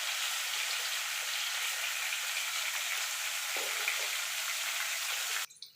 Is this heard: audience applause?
no